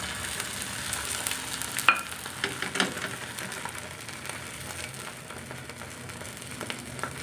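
Egg omelette mixture frying on a hot dosa tawa, a low, steady sizzle and crackle with a few soft scraping taps near the start.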